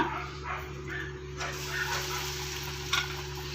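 Tea-stall style bhajji fritters frying in hot oil give a steady, moderately loud hiss with some faint bubbling, under a constant low electrical hum.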